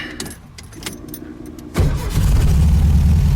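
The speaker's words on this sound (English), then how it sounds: "I bet the sucker will start right up" A VW Beetle engine fitted with a Weber 34 ICT carburetor: keys jangle briefly, then the engine catches at once and settles into a loud, steady, fast idle close by, with no talking.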